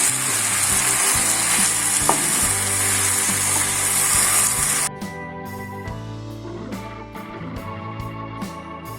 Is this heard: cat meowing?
no